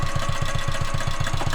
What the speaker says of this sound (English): Let the engine run for a few minutes.